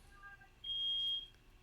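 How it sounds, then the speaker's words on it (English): A household smoke detector sounds one sustained high electronic beep, moderately loud and close, lasting about half a second against a quiet room. "Is that the smoke detector?"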